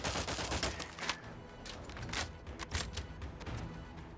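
Gunfire crackles through a firefight in The Outer Worlds 2, rapid bursts and scattered sharp shots at moderate distance with no talking.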